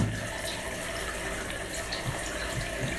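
A bathroom tap in a UK home runs steadily for washing, a close, continuous rush of water that fills the whole moment with no talk.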